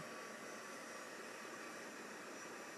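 A hair dryer blows continuously to dry wet watercolour paint on a loose watercolour block, a close, steady, loud whooshing hiss with no pauses and no voices.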